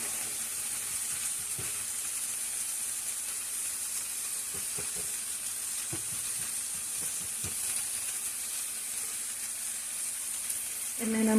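Onions and a burger patty fry together in a pan with a steady, close sizzling hiss. A few soft clicks and taps from cooking utensils sound over it, and nobody speaks.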